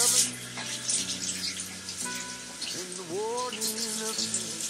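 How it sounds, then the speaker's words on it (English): Tap water runs steadily into a sink for hand washing at an outdoor grilling setup, a continuous hiss lasting several seconds with some faint background voices and noise. "Let me wash my hands again."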